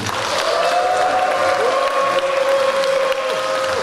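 At a Bucheon Mongnyeon Rotary Club presidential inauguration ceremony, the audience applauds and cheers steadily, with a sustained tone ringing through the clapping.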